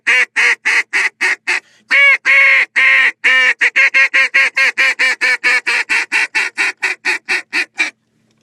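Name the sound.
duck call blown to imitate duck quacks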